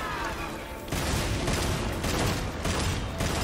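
Loud bursts of gunfire in Devil May Cry 5, a dense run of rapid shots in repeated volleys, close and forceful, with no talk over them.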